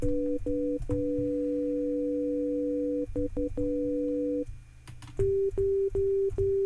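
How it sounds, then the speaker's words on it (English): Two steady electronic tones from Ableton's Frequency Shifter sound together, cut into short on-off pulses, then give way to a single higher tone that pulses in a regular rhythm. "So we can see it's created these two tones"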